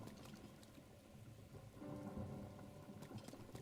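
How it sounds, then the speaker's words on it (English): Rain and thunder in the video game Breath of the Wild, a steady patter with low rumbling rolls that swell midway, continuous and fairly quiet throughout. "Oh, it's raining too."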